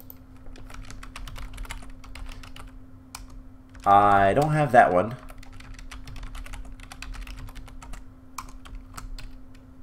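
Rapid clicking keystrokes on a computer keyboard, a steady stream of light taps. They run throughout and are briefly covered by a short spoken line from a nearby voice in the middle.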